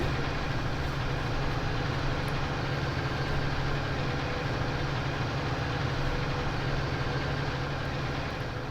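A tractor engine in Farming Simulator 19 drones at a steady, loud, low rumble, unchanging and uninterrupted throughout.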